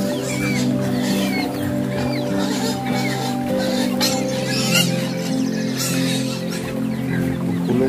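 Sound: chickens clucking during typhoon Odette

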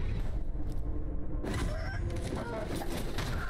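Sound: chicken clucking in video game Sekiro

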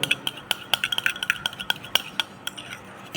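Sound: mixing homemade skin serum in a bowl

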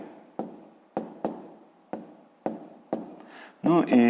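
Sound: writing numbers by hand

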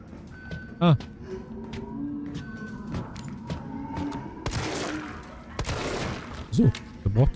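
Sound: gunshots from the video game Resident Evil

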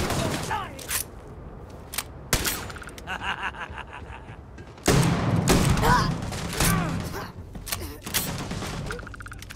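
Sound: weapon gunfire in video game Starfield

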